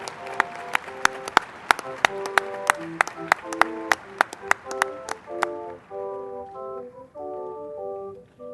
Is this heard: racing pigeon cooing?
no